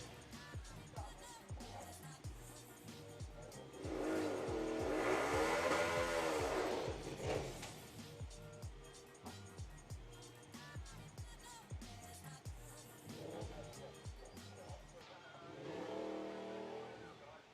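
Drag racing cars roar down the strip at the STP Summer Nationals, one loud accelerating run swelling and fading mid-way and another building near the end, while a commentator talks over the engine noise.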